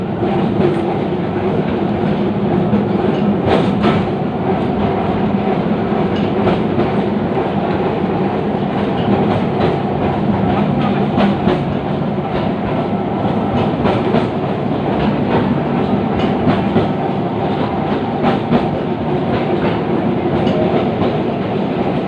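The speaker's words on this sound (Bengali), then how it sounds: "খুব ধীরে ধীরে ট্রামটি যাচ্ছে।" A Kolkata tram rumbles slowly along its rails with a steady, loud mechanical drone and occasional clicks and squeaks from the wheels.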